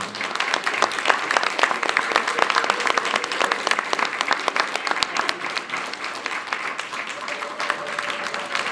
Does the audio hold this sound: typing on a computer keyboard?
no